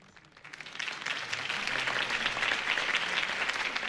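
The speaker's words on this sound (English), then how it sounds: "If only Mr. Wayne, my campaign's largest backer, could have heard that applause" Steady video game crowd applause swells in over the first second and holds loud and even, a dense wash of many hands clapping with no talk.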